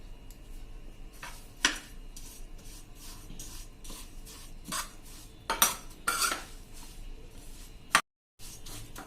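A spoon stirs raw mango pickle with turmeric in a bowl, giving close, irregular scrapes and clinks of metal against the dish, with brief pauses and a short silent gap near the end.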